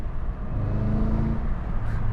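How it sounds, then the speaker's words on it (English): A 2025 Cadillac CT5-V Blackwing engine hums steadily at close range, its pitch rising and falling briefly as it rev-matches on a downshift, with no talking over it. "just listen to that rev matching"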